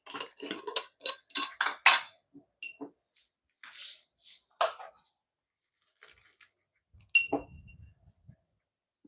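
Seeds are crushed by hand while preparing a digestive drink, a series of short clinks and gritty scrapes in quick clusters, then sparse taps and a final louder knock in a quiet room.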